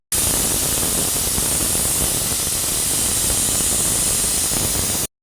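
Pressure cooker steaming biryani kushka rice vents a loud, continuous hiss of escaping steam that runs steadily for about five seconds and then cuts off.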